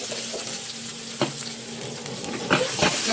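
Onions, garlic, green chilies, curry leaves and dried red chilies fry in a pan for French chicken, a dense close sizzle with a few sharp stirring scrapes and clatters near the end, without talk.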